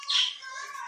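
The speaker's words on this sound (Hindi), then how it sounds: "ये हमारे तोते हैं, वो भी खेल रहे हैं।" Pet parrots give a short, bright chirp up close and then a thinner trailing call, with nothing else heard in a kitchen during cooking.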